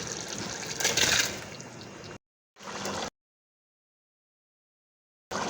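Ground spinach paste poured from a blender jug onto potatoes, a soft wet trickling and gurgling pour lasting about two seconds, then a brief second pour, close up with no talk.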